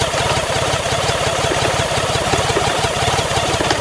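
BMW K75 motorcycle engine labouring and lugging as the clutch is let out, a steady, loud, rough low rumble with rapid pulsing throughout, close by and alone.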